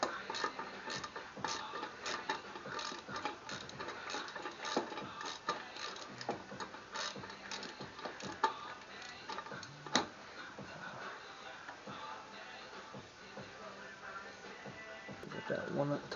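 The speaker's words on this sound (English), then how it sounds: "Cheap ratchet wrench." A cheap ratchet wrench works on a small engine carburetor, giving a rapid, continuous run of close metallic clicks over a steady busy background.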